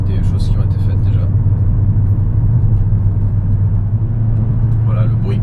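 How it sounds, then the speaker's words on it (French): A Mercedes CLK500 on the move, its exhaust a constant low droning rumble that stays steady throughout, with someone talking over it at the start and end. "le bruit constant de l'échappement m'amuse quand même moyennement"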